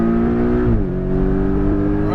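Porsche Cayman GTS accelerating out of a corner on a race track, a loud close engine note that dips briefly then climbs steadily, heard from inside the car.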